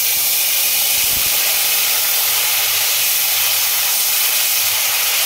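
Onion paste dropped into hot oil already seasoned with whole cumin, cloves and turmeric, giving a loud, steady, hissing sizzle that holds evenly throughout with no one speaking.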